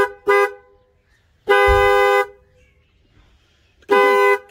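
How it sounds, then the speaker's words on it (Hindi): A car horn honks three times, loud and close: a quick toot, then a longer blast, then another short honk, with quiet gaps between. "हॉर्न बजाइए बजा जरा आवाज कैसी चेक करिए"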